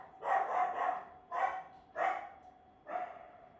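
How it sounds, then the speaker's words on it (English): A neighbor's dog barks four times in a short uneven burst, clear and moderately close, each bark loud and alone with no talking. "Neighbor's dog."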